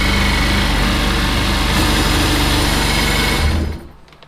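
A 2003 Seadoo RX DI jet ski engine runs steadily and loudly with a smooth high buzzing drone, then cuts off near the end, leaving quiet.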